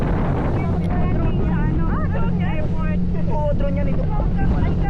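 A boat engine drones steadily beneath rushing wind and water noise, constant and fairly loud, with a voice talking over it.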